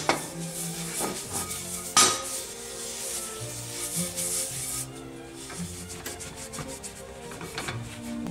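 Cast iron pans, vintage and modern, are rubbed with a layer of Crisco for a first seasoning: quiet scraping and rubbing strokes with a few light metallic knocks, close up and without talk.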